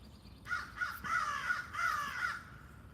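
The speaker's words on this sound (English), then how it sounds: "I didn't do anything to that crow. Why is that crow mad at me?" A crow caws in three loud, harsh bursts close by, separated by brief gaps, with no other sounds over it.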